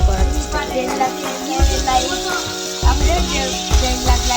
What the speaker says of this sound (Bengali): এই যে মশলাগুলো আমি সুন্দর মতো ভেজে নিব।